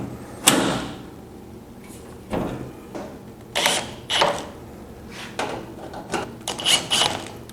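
A metal access panel on a Delta DJ-20 woodworking jointer drops into place, giving several sharp clunks and rattles spread across the clip, close and fairly loud against a quiet workshop.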